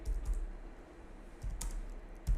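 Fingers tap out a command on a computer keyboard, a few soft, close keystrokes in an otherwise quiet room.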